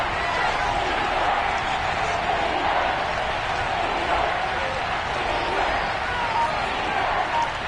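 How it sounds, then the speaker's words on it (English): Stadium crowd in a Madden football video game, a steady, dense roar of many voices holding at an even level throughout with no distinct cheers or claps standing out. "The crowd getting into it as we come up on a big third down"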